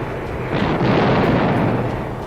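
Allied bombardment of German gun emplacements on the hills around Monte Cassino, 1944, heard as a continuous loud rumbling roar of explosions blending into one heavy, sustained barrage.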